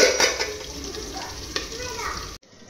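Fish curry pieces frying and sizzling in a pan with stirring, a steady close broadband sizzle with a few scraping stir accents, cutting off abruptly near the end.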